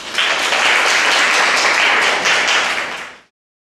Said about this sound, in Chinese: 让我们用最热烈的掌声来欢迎李伟文老师的分享